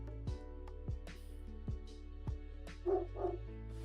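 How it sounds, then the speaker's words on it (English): A dog barks repeatedly in a room, about five or six sharp barks spaced roughly half a second apart, with the last two fuller and louder, over a steady low background hum. "Is he really barking at just like people?"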